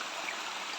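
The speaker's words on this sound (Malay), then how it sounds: "air sungai di sini" River water rushes and splashes near Tak Abek waterfall, a steady broadband flow that is close and fairly loud, with no voices heard.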